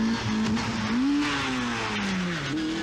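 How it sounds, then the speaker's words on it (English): A Vauxhall Astra rally car races along a 1988 British Open Rally Championship stage, engine revving and shifting pitch as it passes fairly close, with gravel noise beneath. "This is Dave Metcalf in the Vauxhall Astra."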